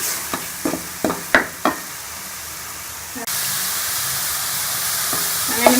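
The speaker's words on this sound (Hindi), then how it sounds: "मैंने मसाले को अच्छी तरह से भून लिया।" Masala spices frying in a pan for a sweet corn masala dish: several sharp stirring scrapes and sizzles at first, then a steady continuous hiss of frying that holds loud and close to the end.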